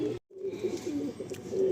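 Giribaz pigeons coo at a loft, a low, steady burbling that runs almost continuously after a brief gap near the start, close by and fairly loud.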